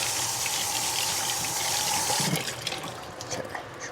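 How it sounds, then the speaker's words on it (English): Water from a tap gushing loudly into a drained can to rinse it, a dense close splashing that eases off and turns to scattered drips and clinks near the end. "Give that a little rinse."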